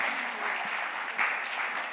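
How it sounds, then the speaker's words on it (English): Audience applause in a conference hall for four young students, a steady broad clatter of clapping sustained throughout at moderate level. "Big round of applause for our 4 young students."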